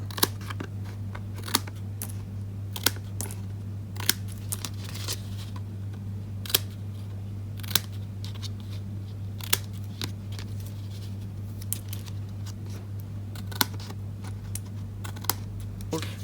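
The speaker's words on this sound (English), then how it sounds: "I'm just going to turn it over and just cut along that card." Paper snips cut around a cardstock card in repeated sharp, separate clicks and snaps spaced a second or so apart, close and crisp over a steady low electrical hum.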